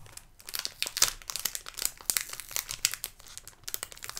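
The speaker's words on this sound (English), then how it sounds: "Love that crinkly sound." Crinkly plastic packaging of a scrapbook album kit is handled up close, giving dense, irregular crackling and rustling bursts that continue throughout with no talking.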